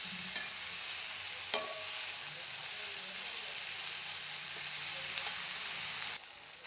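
Okra and onions frying in a pan while being stirred, a steady close sizzle with a few sharp utensil scrapes and clicks, ending abruptly near the close.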